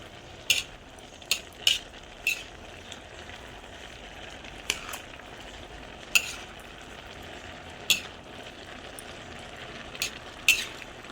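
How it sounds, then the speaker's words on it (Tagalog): Vegetables, string beans, chayote and carrots, are stirred in a pot, with a soft continuous sizzle and a spoon scraping and clinking against the pot at irregular intervals, no talking. "Halo-haloin lang natin guys ng mabuti ang gulay para pantay ang luto nito."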